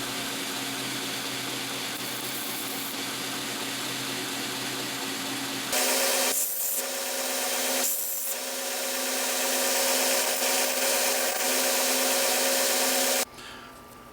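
Sanding wheel shaping a paring knife handle, a loud steady grinding whir with a couple of brief dips where the workpiece is lifted, cutting off abruptly near the end.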